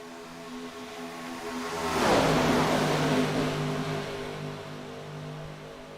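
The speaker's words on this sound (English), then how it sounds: "Big, loud cars, folks. These things are unrestricted. So you're going to see 200 mile an hour." An unrestricted race car at Talladega speedway roars past close by. The engine drone swells sharply to a loud peak, then fades away steadily as the car recedes.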